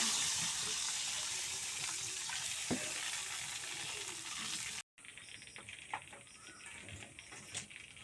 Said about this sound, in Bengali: এখন এই পরিমাণ মতন জল দিয়ে দেবো।